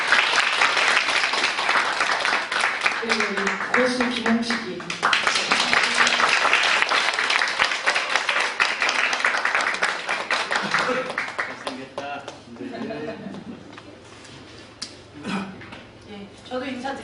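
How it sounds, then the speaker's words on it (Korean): Audience applause at a traditional Korean theatre performance, sustained clapping from a room full of people that swells and then thins out, with someone talking over it in places. "오늘 통역으로 애써준 박지혜 연출에게도 박수 부탁드립니다."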